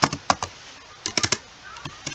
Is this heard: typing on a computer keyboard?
yes